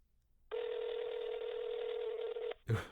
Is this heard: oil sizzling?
no